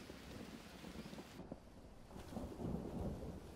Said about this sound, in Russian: Сейчас меня помоет дождик.